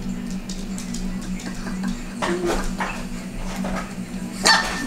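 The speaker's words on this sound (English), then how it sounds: "The dog." A dog barks in short bursts and whimpers, sharp yips over a steady low hum, with faint voices underneath.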